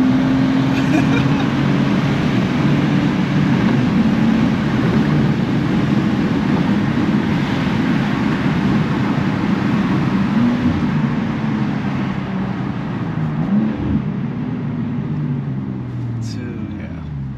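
A 2023 BMW M2 G87 driving through turns, its engine droning loud and close with a steady, rising and falling tone throughout.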